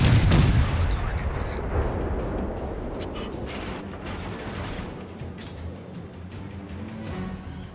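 Warship naval artillery thunders in the World of Warships game, a heavy booming salvo up front that rolls into sustained rumbling fire with scattered sharp cracks, loud and dense throughout.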